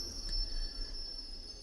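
A train passes near a railway station as a low, steady rumble with a thin, constant high squeal of wheels, faint and distant throughout.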